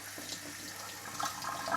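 A kitchen tap runs into a bowl while broccoli is washed, a soft, short splashing trickle that grows slightly louder toward the end, with no talking.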